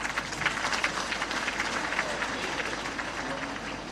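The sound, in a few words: audience applause for Rumi Devi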